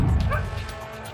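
Police sniffer dogs searching an area for traces of toxic liquor give short barks and yips, close and fairly loud, over a steady background hum.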